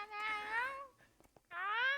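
A Minecraft cat gives two clear, drawn-out meows with a short pause between them, close and alone, with a few faint clicks in the gap.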